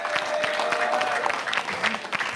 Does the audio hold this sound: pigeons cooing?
no